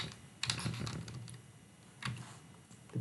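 A computer keyboard is typed on while entering a password during a WordPress setup, with short bursts of quick keystrokes in two clusters separated by a pause, close and fairly quiet, with no talk.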